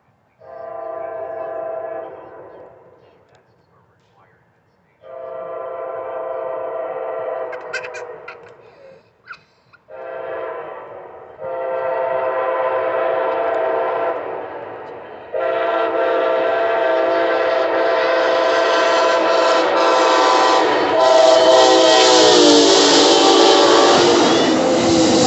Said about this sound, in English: I'm pretty sure it's an Amtrak because that's all we get on the weekends.